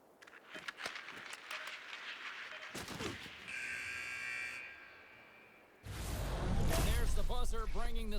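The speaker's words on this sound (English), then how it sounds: "Buzzer bringing the second period to an end." A hockey video game's buzzer ends the second period, a steady electronic tone held for over a second in the middle, framed by the game's arena crowd noise, with a commentator talking before and after.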